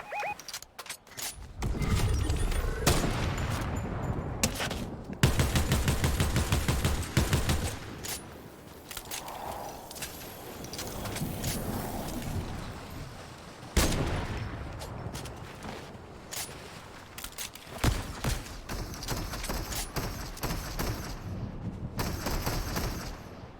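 Video game gunfire crackles in rapid bursts and rattling volleys, loud and continuous over more than twenty seconds with brief pauses between strings of shots.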